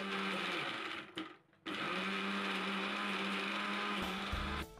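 A kitchen mixer grinder blends ginger, garlic, salt and turmeric into a paste, whirring loudly and steadily, briefly cutting out and dropping away before restarting and running on at full speed, close by with no talking.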